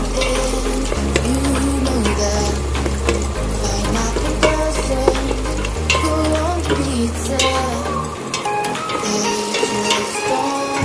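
Garlic frying in a pan over low heat for sinampalukang manok, a steady sizzle with stirring scrapes, continuous and close, with a low steady hum beneath and no talk.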